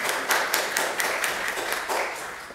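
A church congregation claps during a Sunday homily, a moderate ripple of overlapping hand claps heard from within the room, steady and without voices.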